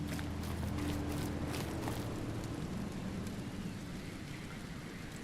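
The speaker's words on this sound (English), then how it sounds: "Rain is still very much coming down." Rain falls steadily in the video game The Sinking City Remastered, a soft, even wash of downpour holding throughout under a low, constant hum.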